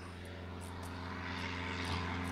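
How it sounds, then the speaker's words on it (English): A propeller aircraft flies overhead near a home in an area with frequent air traffic, its steady engine drone and harmonic hum running throughout at moderate level with no speech. "I apologize in advance for the plane."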